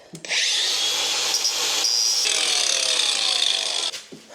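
A power saw with a turbo diamond blade cuts through floor tile, a loud sustained high-pitched grinding whine lasting about three and a half seconds, rising in strain mid-cut, then spinning down at the end.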